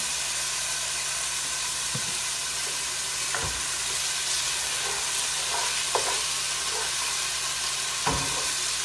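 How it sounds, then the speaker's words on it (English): Chicken sizzles and fries in hot grease in a pan, a steady crackling hiss with occasional sharper pops and stirring clicks, heard up close with no talking. "as the grease begins to get hotter, it might begin to splatter you"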